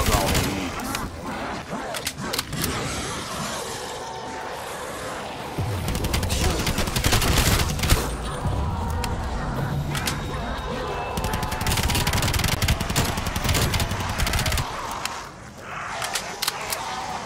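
A submachine gun fires in rapid, repeated bursts in Call of Duty Black Ops 3 modded zombies, a loud rattling chatter that stops and starts over game noise, with a voice speaking at times.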